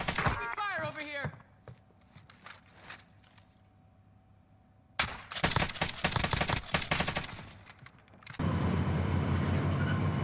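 Bursts of rapid automatic gunfire and scattered shots crack in the Warzone shooter, mixed with clanking mechanisms and a voice calling out, then give way to a steady loud rushing roar.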